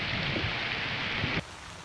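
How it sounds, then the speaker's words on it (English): Rain pouring down beside a grayling stream, a dense steady hiss of falling drops that cuts off abruptly near the end. "So the heavens are opening now, we've got rain coming down"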